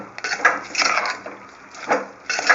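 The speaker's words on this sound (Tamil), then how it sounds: "இப்போ நல்ல கிளறி விட்டுருங்க" Spoon scraping and clinking in a pan while ridge gourd chutney with asafoetida is stirred, in uneven close strokes with brief pauses between them.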